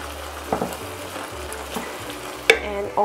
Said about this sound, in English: Now stirring noodles can be quite tough, especially when it's a pan and it's not a wok.